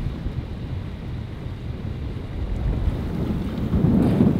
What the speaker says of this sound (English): we've turned around, stuck the engine on, and we're just motoring up around the corner to get back out of this swell